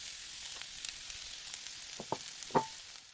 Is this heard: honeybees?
no